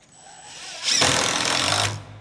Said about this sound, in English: But this is the way I like to do it, is drill